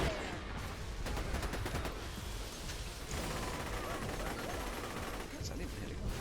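Dense enemy gunfire in the video game Borderlands 2, a constant barrage of overlapping shots and rapid bursts filling the whole stretch, loud and busy.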